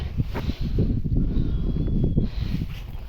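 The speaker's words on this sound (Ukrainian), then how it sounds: "Ой, вітер." Gusty wind buffets the microphone outdoors, a steady low rumble with rustling, loud and continuous throughout.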